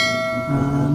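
A bell-like chime sound effect rings out loudly, a sustained, ringing tone that shifts pitch partway through its one-second span, with no voices over it.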